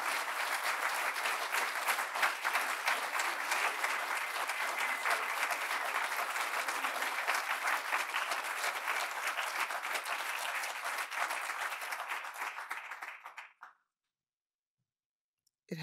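An audience at a poetry awards reading applauds to welcome poet Patricia Smith, a full, steady roomful of clapping that holds for about thirteen seconds before thinning out and stopping abruptly into silence.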